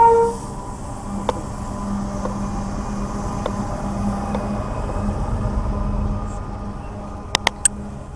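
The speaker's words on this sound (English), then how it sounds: "Good to see some freight coming through now." A freight train led by locomotive 5001 passes through Tarro railway station, a loud continuous rumble of heavy wagons rolling by close, with a tonal horn-like note early and a few sharp metallic clanks near the end.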